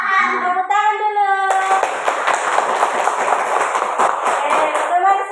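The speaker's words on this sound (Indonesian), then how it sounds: "Tepuk tangan dulu" A group of children clap hands together in a classroom, a dense burst of close, overlapping claps that starts after a short sung or chanted phrase and carries on steadily under loud voices.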